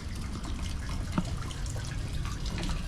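Water trickling and flowing steadily along a fountain channel in the Moorish garden of the Alcazaba palace in Málaga, a close, constant babbling with small drips throughout.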